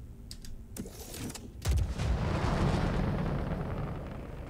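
Weapon fire explosion in the Star Citizen video game: a few sharp clicks and pops, then a loud rumbling blast that swells and sustains as a broad roar to the end.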